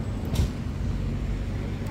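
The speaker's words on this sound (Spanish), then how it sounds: "Y hay un autobús y todo." A bus passes on a street beside stadium construction works, a low rumbling engine drone with a brief louder swell near the start, fairly close and steady over two seconds, no talk.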